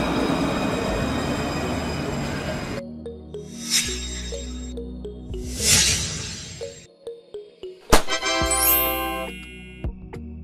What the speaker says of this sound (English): Tram train. A train that can run on both city tram tracks and main railway tracks